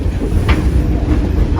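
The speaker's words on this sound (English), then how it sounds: "The Baldwin locomotive was made in 1897, and it's our largest locomotive." Brief ride aboard Baldwin No. 7, an 1897 steam locomotive of about 70 tons, with a close, steady rumble and rattle of the moving car and no clear talk.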